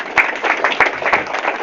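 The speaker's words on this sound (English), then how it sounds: "So applaud yourselves" An audience at a common law court meeting in Wales breaking into applause, a scattered burst of hand claps from a modest crowd, loud and close, with a brief voice mixed in.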